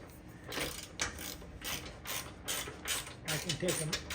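A ratchet wrench works a long bolt loose on an off-road vehicle under repair, a steady run of rapid clicking bursts repeating close by, with no talk over it.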